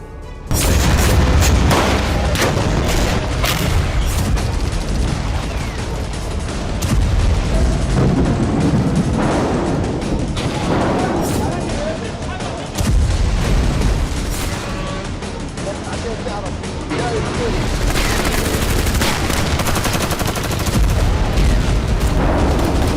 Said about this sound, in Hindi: 45 दिनों से गाजा पर बारूदी प्रहार जारी है।